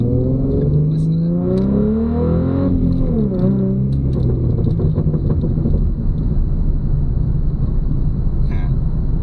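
A car engine revs hard with its pitch swelling up and down, then settles into a loud, steady drone. No one speaks over it.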